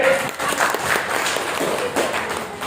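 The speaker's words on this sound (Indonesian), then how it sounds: "Tepuk tangan buat Pak Dede." A seminar audience gives steady applause for a speaker, the claps loud and continuous with scattered sharper hits, close and filling the whole stretch.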